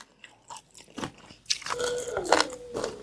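Crunchy fried angel-wing jellyfish bitten and chewed up close, a run of sharp crackling crunches that grow louder and denser through the bite, with no talk.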